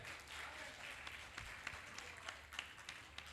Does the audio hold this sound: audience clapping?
yes